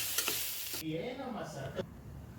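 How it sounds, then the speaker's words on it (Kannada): Gojju avalakki, a beaten-rice dish, stirred in a pan with a soft sizzle of frying underneath and a few scraping strokes of the spoon, close and quiet, with no voices. "ಈಗ ಇದನ್ನು ನೀಟಾಗಿ ಮಿಕ್ಸ್ ಮಾಡಬೇಕು"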